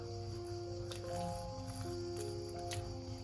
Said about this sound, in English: And I'm going to pour in the mixture.